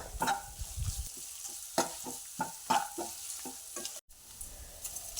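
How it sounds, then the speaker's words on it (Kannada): Onions frying with green chillies and a spoonful of ginger garlic paste in a pan, giving a steady low sizzle broken by repeated scraping stirs, close and fairly quiet. "ಈರುಳ್ಳಿ ಸ್ವಲ್ಪ ಫ್ರೈ ಆದ ನಂತರ ಜಿಂಜರ್ ಗಾರ್ಲಿಕ್ ಪೇಸ್ಟ್ ಹಾಕ್ತಾ ಇದ್ದೇನೆ ಒಂದು ಸ್ಪೂನಷ್ಟು"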